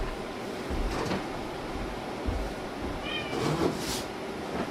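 A cat meows a few times indoors, moderately close, over a steady background hum with soft bumps and shuffling.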